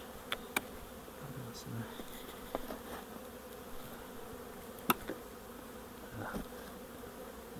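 Bees buzz steadily at an apiary's hives, a faint continuous drone with a few close passes and light clicks and knocks of handling, and a brief spoken word in the background.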